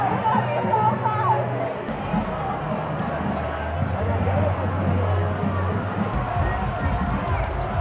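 Large outdoor crowd at a pro-Israeli festival at UCLA, a steady babble of many voices with a low rumbling hum in the background and nearby talk mixed in.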